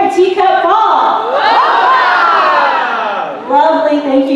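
A Dragon Con audience at a robotic teapot race lets out a loud, sustained crowd cheer for a fallen teacup, many voices rising in a long swelling shout, then dropping before another burst of yelling at the end.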